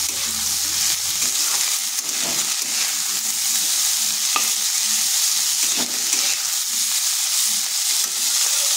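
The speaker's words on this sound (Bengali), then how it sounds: "এরপরে এই শাক আর আলু ভালো করে মিশিয়ে নেব।" Leafy greens and potatoes sizzle in a frying pan while being stirred, with a constant hiss of frying and occasional scraping clicks of the utensil, close and steady with no talking.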